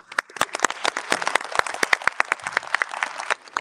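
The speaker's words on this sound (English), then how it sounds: "Let's give a little round of applause for our panel" A round of applause for a panel at an evening event with Lt Governor Sears and Miss Virginia Ford: a modest audience claps in a close, irregular patter of distinct hand claps, steady for several seconds before tapering off.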